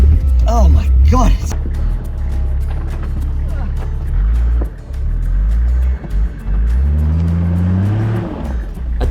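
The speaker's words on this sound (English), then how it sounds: "I kept my foot on the throttle to see if I could exploit it. The tyres were still spinning" A Toyota Land Cruiser on a long 4x4 off-road trail revs its engine hard while the tyres spin in mud, a loud continuous roar rising and falling in pitch, with a voice exclaiming briefly near the start.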